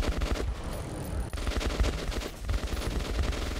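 Gunfire in Metro 2033, a dense, continuous clatter of automatic weapons and overlapping shots, loud and sustained without pause, like a firefight all around.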